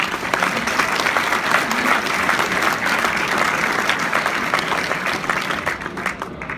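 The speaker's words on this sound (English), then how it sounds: "So can we give these guys applause please before we start?" A crowd at a gathering in a hall gives dense, sustained applause, loud and steady throughout before easing slightly at the close.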